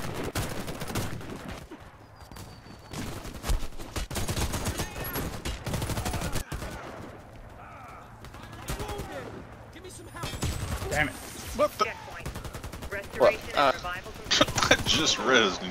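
Gunfire in the video game Warface, played co-op: repeated bursts of rapid shots across the clip, with players talking and reacting over the shooting.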